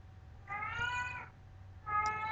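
An old, senile cat meows twice, each cry drawn out and plaintive, close by over a low background hum with a short pause between them.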